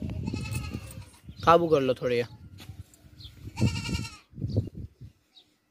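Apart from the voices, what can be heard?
Beetal goat bleating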